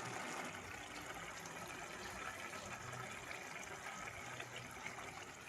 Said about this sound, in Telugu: ఇదిగోండి దొండకాయ పచ్చెనపప్పు కూర ఉడుకుతుంది